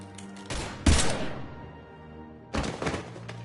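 Gunfire in the video game Mass Effect 3 Legendary Edition, heard as two loud bursts of close shots with heavy thuds that ring out and decay between them.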